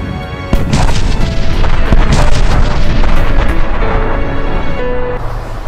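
Several nuclear explosions set off by the military against invading monsters, heard as loud, continuous deep booming rumbles with sharp blasts layered through a dense roar, with no voices present.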